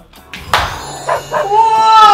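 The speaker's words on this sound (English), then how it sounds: "That's my dog, Lino." A dog gives a few short yelps and whimpery barks close by, ending in a rising, drawn-out whine.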